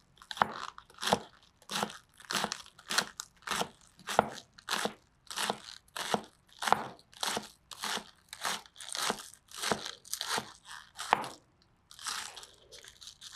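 Knife slicing vegetable scraps thinly on a cutting board, a steady run of crisp, close crunching cuts repeating about once a second, with a brief pause near the end and no talk.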